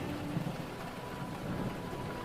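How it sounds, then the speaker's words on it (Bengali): Heavy rain pours onto a tin-roofed room at night, a dense, even rush of drumming with a low rumble underneath, fairly faint and with no voices. "ঝমঝম করে বৃষ্টি পড়ছে আর টিনের ঘরে সেই শব্দ অদ্ভুতভাবে একটি ঝিমঝিমে আমেজ এনে দিয়েছে"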